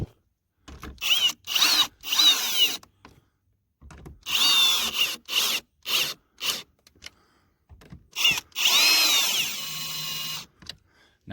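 A power drill drives bolts in while fitting tow mirrors to a Ford F150, running in a series of short whirring bursts of varying length separated by brief pauses, close and moderately loud, with no talking.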